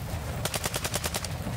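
Rapid automatic gunfire from an enemy shooting from above in Call of Duty Modern Warfare II on the Al Mazrah map, a tight burst of about eight evenly spaced shots over a steady background rumble.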